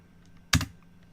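A single sharp keystroke on a computer keyboard, close and crisp, like the Enter key being hit, with faint room hum before and after.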